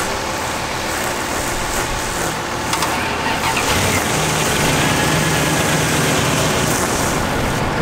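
A pickup truck engine catches after a jump-start and settles into a steady, close running rumble, with the rough low drone filling the whole stretch.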